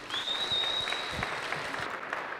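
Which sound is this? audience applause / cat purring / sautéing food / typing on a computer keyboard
audience applause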